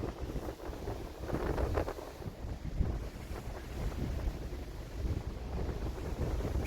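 Strong wind gusts across a newly planted vineyard in Krasnodar Krai, buffeting the microphone with a loud, rumbling, uneven roar that rises and falls throughout.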